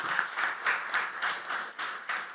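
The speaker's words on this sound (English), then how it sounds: "Can we have a good round of applause for them?" Audience applause at a leadership session of a business summit, a dense wash of clapping from a crowd filling the room, steady and moderately loud with slight swells, no talk over it.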